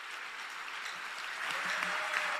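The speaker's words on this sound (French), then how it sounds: "Ce sont des gens qui applaudissent pour toi." A church congregation applauds, a dense, continuous patter of many hands that swells slightly toward the end.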